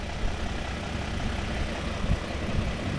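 A 2024 Toyota Tundra SR5 engine idling quietly under the open hood, a low, steady hum with only faint irregular pulses and no voices.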